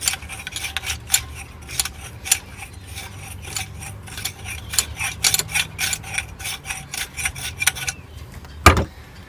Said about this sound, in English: You can then deburr the tube that you've cut using this part of the tool.